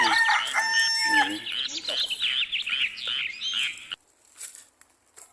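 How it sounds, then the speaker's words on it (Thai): Several bantam and jungle fowl chickens at a temple crowing and clucking at once, with a rooster's cock-a-doodle-doo among shrill calls, then quieter scattered chirps. "จะมีไก่เยอะมากเลยครับ เป็นไก่แจ้ไก่ป่า"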